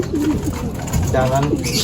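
Racing pigeons coo at a loft during a training race, low throaty calls repeating softly against steady outdoor background noise.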